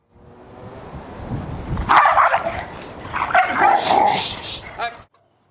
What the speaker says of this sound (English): These are my two brown dogs jumping out